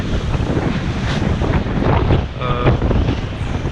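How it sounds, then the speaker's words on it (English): Strong wind roars across the microphone on a sailboat crossing from Hilton Head Island toward Chesapeake Bay in 18 knots on the beam, with waves of five to six feet surging and splashing against the hull, loud and close throughout. "We've got about 18 knots of wind on the beam."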